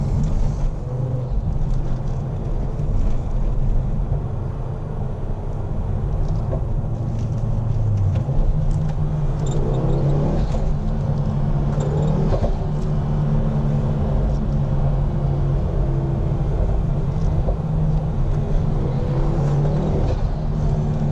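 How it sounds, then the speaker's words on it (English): A 2010 Ford Focus RS on the move, its exhaust giving a loud continuous low drone with engine rumble that swells and eases as the car drives, heard from inside without talk. "That exhaust noise never gets old."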